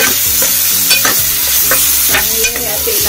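Green masala paste with mustard stirred and fried in oil with browned onions in a pot, for a shark fish curry; steady close sizzling with repeated scraping stirs, no talk.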